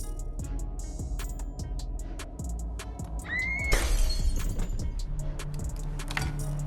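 Glass shatters in a single sharp crash midway through, followed by a bright scattering tinkle of falling shards over a quiet indoor background of light clicks and rustles.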